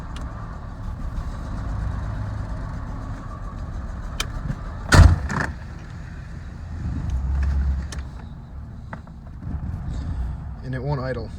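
Thunder Cougar SC XR7 car engine running rough and unable to idle, a low uneven rumble throughout with a sharp louder burst midway, under a voice outdoors on a foggy day.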